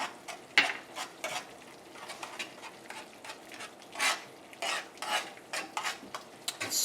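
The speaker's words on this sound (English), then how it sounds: "I'm gonna make all this noise with this spoon here" Rhythmic scraping and clinking of a metal spoon against a pot of curry pumpkin linguine sauce, uneven strokes close by, with a soft sizzle underneath.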